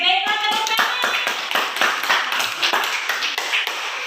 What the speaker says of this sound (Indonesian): baiklah tepuk tangan